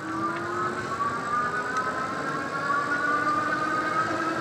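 A Velotric Discover 2 electric bike accelerating on a trail: a steady, close motor whine that climbs gradually in pitch as speed builds, running continuously with no talk.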